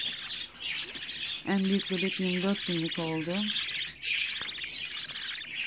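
Budgerigar chicks chirp and cheep in quick, rapid bursts close by, while a person speaks softly over them.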